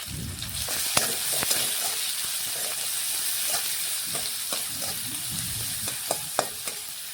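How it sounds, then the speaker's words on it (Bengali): Chopped onions fry in oil alongside dried chillies and whole cumin, giving a constant close sizzle broken by scattered clicks and scrapes of stirring throughout. "এখন পেঁয়াজ একটু নাড়াচাড়া করে লাল লাল করে ভেজে নেব।"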